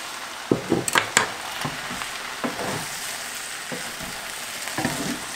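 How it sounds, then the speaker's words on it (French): Tomato sauce and softened peppers being stirred in a frying pan, with a steady sizzle under repeated scraping strokes of a utensil, the loudest clustered near the start and fading into continuous frying. "On va mélanger tout ça."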